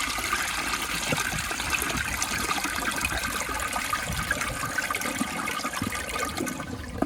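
An American Standard Space Saver Cadet toilet flushing, a loud continuous rush and gurgle of water close up that holds steady for several seconds before easing slightly at the end.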